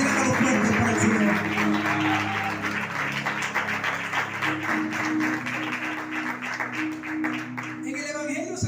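A church congregation applauds in a steady, rhythmic burst of clapping, fairly close and loud, with low voices and a sustained musical tone under it.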